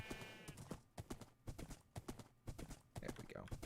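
Horse hooves clip-clop steadily in Minecraft, a quick repeating rhythm of close, crisp hoof steps with a brief whinny near the start, while someone talks over it.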